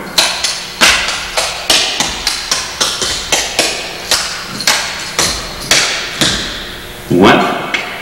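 Tap shoes strike a hard floor in a quick, crisp series of double steps, drags and a flange, many sharp taps and scuffs in an even rhythm, close and loud, with a brief louder scrape near the end.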